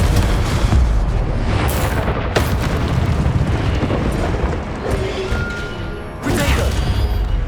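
Loud, continuous rumbling blasts and booms from Confringo fire spells in the Hogwarts Legacy video game, with sharp bursts near 2 and 6 seconds over a dense, sustained roar.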